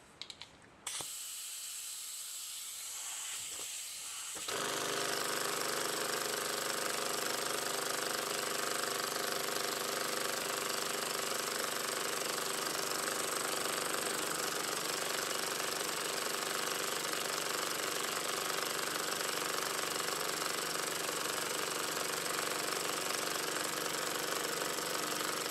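A small homemade miniature steam engine, clamped down, runs with a steady, dense mechanical hiss and rattle that starts after a few quiet seconds and continues unbroken and fairly close.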